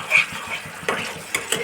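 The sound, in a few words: stirring and sautéing fish masala on low heat in a pan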